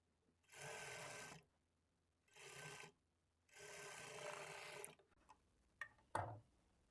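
Sewing machine stitching along the border of a blouse piece in three separate runs of steady whirring, close and quiet, followed by a few light clicks and handling sounds of the fabric.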